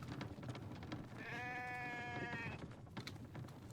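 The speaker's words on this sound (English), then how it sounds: "Oh, it's a sheep." Sheep bleating in The Infected video game: a single drawn-out, tonal bleat of about a second, clear over a background of rain-like noise.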